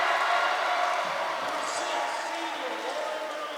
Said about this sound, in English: Being announced with loud cheers from the student crowd